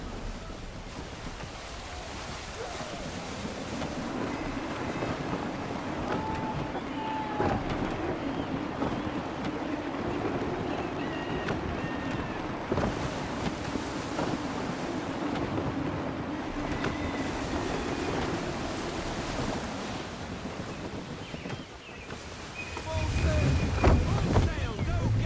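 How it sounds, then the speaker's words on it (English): Gusty wind buffets a sailing ship at sea in the Assassin's Creed 3 video game, a continuous rushing roar with creaks and rumbles that swell near the end, while voices speak intermittently over it. "Wind looks to be shifting. Stay alert, Connor. Gusty winds can be difficult to manage."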